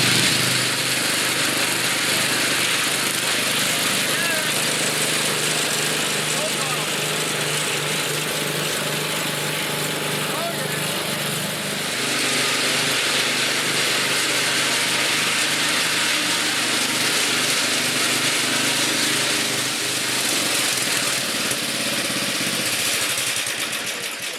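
1979 Toro 826 snowblower with a 26-inch width and 8 hp Briggs & Stratton engine, running steadily in first gear with a loud continuous small-engine drone and a slight shift midway.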